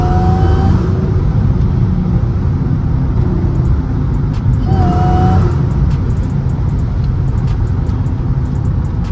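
A supercharged Mercedes C32 AMG pulls hard under load with a steady, loud engine roar, its pitch climbing, dipping at a gear change around the middle, then rising again.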